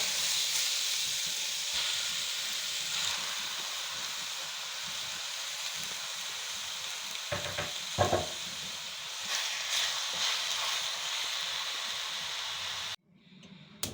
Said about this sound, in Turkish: Şimdi etlerimi kavurmaya geçiyorum